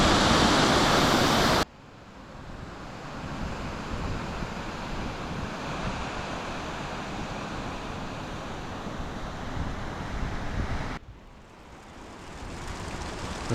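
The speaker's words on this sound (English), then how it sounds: "A small waterfall." A small waterfall at hot springs in a cone-shaped crater natural park in China, a steady close rush of falling water that keeps going under light wind noise, with a brief louder burst at the start.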